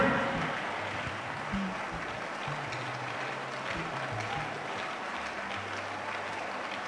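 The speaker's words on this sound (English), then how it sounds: "Clap your hands and pray." Hands of a church congregation clap together during a prayer service, a steady dense patter that continues without a break at moderate loudness.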